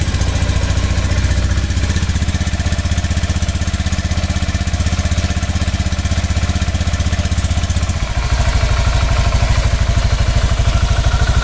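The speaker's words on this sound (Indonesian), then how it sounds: "Ini suara mesinnya ya." A Honda scooter engine idles up close as a loud, steady mechanical putter with a rapid rhythmic clatter, shifting slightly in pitch near the end, with no talking.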